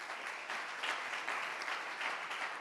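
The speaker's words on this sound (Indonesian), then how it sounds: "Tepuk tangan bagi Allah kita." Church congregation clapping during a Sunday online worship service, dense sustained applause from many hands at a moderate distance, steady throughout with slight swells.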